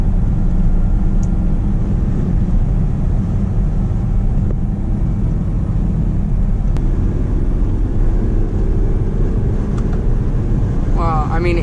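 Interior drone of a BMW M3 E93 cruising in fifth gear, a steady low engine and road rumble filling the cabin, fairly subdued and continuous throughout.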